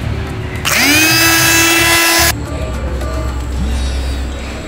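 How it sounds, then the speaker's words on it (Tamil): A blender grinds paneer dosa batter in one loud, high-pitched whirring burst of about one and a half seconds. It starts abruptly, then cuts off, leaving a quieter kitchen background. "பிளெண்டரில் நல்லா அடிச்சுக்கோங்க"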